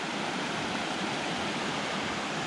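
A river flows past a riverside property amid trees on a Scottish trail, giving a steady, even rush of water that holds constant throughout with no voices.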